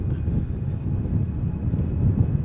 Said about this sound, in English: EasyJet A319 going to Birmingham.